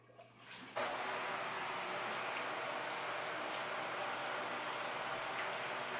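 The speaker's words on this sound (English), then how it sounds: "I'm going to turn him, and he's going to get a little shower" A houseplant's leaves get a shower of water, a steady close hiss of spray pattering on foliage that starts after a brief quiet moment and runs on evenly.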